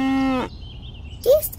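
A cartoon cow gives one clear, loud moo in a children's animated show. A short tone follows, then a second rising moo-like call rises near the end.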